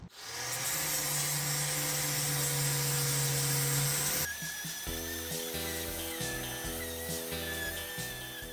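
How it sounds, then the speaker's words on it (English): A power tool grinds paint off steel truck chassis metal before welding, giving a close, steady high whine for several seconds that then turns into a rougher, pulsing grind. "what I'm doing now is just cleaning all the paint off where I need to weld"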